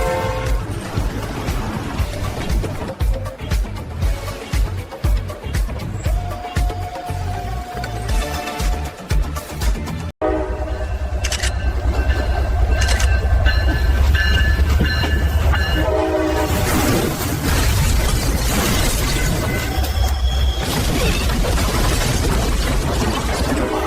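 A Metra commuter train in Chicago rolls past, its horn sounding over steady rumbling and clattering wheels, loud and close, swelling after a brief cut midway through.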